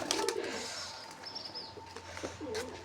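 Pigeons coo softly inside a loft, with low throaty calls and a brief flutter of wings, all fairly quiet and close.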